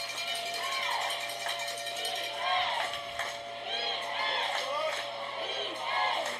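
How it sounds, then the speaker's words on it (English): A homecoming varsity football crowd chants "defense" in repeated rhythmic surges late in the half, the cheering loud and steady throughout, with occasional clinks and band noise mixed into the stands' roar. "You hear the crowd chanting defense"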